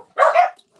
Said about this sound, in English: And there's the dogs again.